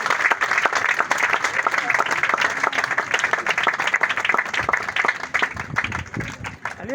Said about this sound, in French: Est-ce qu'on peut acclamer pour ce grand monsieur?